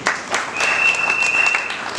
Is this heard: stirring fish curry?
no